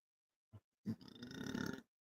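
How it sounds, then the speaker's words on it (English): A man lets out a single loud, drawn-out burp close to the mic, after a short low grunt, with no other sound around it. "Burp."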